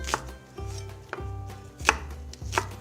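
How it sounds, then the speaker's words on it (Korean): A knife chops half an onion into cubes on a cutting board with four separated, crisp strikes, each followed by a low thud, close and clear with no voices. "다음으로 양파 반 개를 깍둑 썰어 준비해 주세요."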